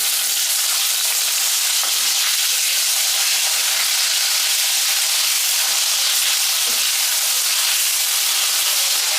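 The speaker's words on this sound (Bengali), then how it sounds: "মাছগুলোকে আমি ভেজে নিচ্ছি" Hilsa fish pieces fry in hot oil with a loud, steady, close sizzle and hiss that runs unbroken throughout, with no voices.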